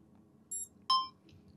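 A DJI Nano camera gives short electronic beeps as recording starts, a brief high chirp followed by a louder, sharper tone and a faint final blip, close and alone in a quiet room.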